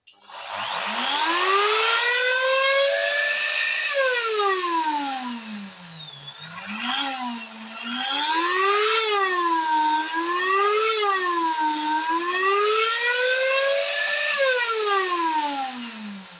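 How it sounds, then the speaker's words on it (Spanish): A Lidl ceiling and wall sander starts up and spins its sanding disc. The loud, close motor whine glides up and down in pitch as the speed changes, heard alone throughout. "Voy a poner la máquina en marcha a ver cómo gira el disco."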